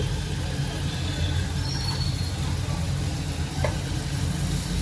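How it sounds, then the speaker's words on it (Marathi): Chopped onion, crushed garlic and bay leaf fry in a pan for paneer bhurji, giving a steady, fairly loud sizzle with a low rumbling hum underneath and no voices. "आता कांद्याला चांगला फ्राय करून घेते"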